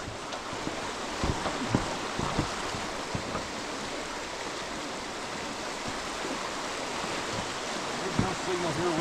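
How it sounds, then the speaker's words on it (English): A river rushes below a swinging suspension bridge in the North Carolina backcountry, a steady broadband wash of flowing water with occasional bumps and knocks from the bridge, voices talking briefly over it. "Look at this. Look at that river."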